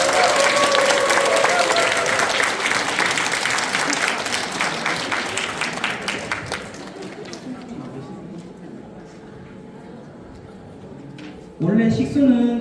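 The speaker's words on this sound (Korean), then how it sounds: "저희 학우분들한테 박수를 치고 시작하겠습니다." Students on a university group outing in Gyeongju break into a burst of loud, dense clapping that fades away after several seconds, followed by a quieter stretch and then a voice that starts speaking.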